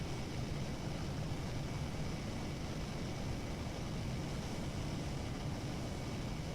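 A bomber plane flies in the combat video game War Thunder, heard as a steady, loud, unbroken engine drone with no gaps or talk.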